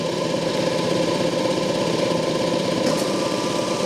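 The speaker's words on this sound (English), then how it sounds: "The oil pump start automatically." An automatic pump for filtering lubricant oil hums in a steady, continuous mechanical drone at close range, with no break or change in level throughout.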